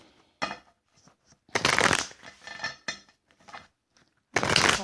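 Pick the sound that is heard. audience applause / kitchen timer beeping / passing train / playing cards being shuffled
playing cards being shuffled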